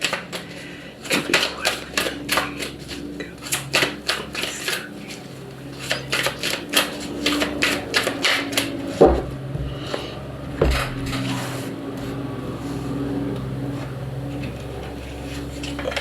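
Oracle cards are shuffled and drawn in rapid crisp clicks and riffles, dense in bursts and then sparser, close and clear with no talking.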